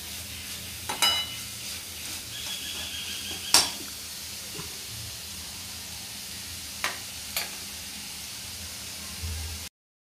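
Spices sauté in a pan for chicken kheema, giving a low steady sizzle broken by occasional spoon clinks and scrapes against the metal, fairly quiet and close.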